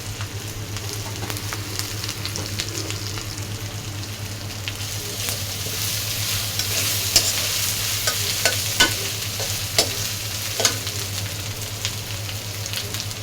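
Masala egg bhuna with turmeric powder being stirred and fried in a pan: a steady, close sizzle with scraping stir strokes throughout, and a few sharper utensil clinks toward the end.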